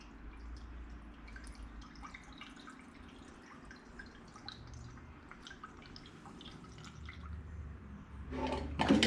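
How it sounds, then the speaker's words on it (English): Premixed high-performance coolant trickles and drips into the cooling system of a 2008 Honda VTX 1300 motorcycle, a faint, soft liquid patter that runs steadily and ends with a brief louder splash. "and now we're going to add the coolant."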